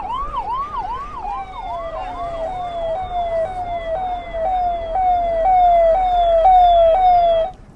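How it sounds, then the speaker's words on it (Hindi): An ambulance siren wails through a dense crowd at the Mahakumbh gathering, first in a fast rising-falling yelp, then switching to a steady repeating wail, loud and near for the whole stretch with little else audible. "देखिए यहाँ पर लाइन से एम्बुलेंस जा रहा है"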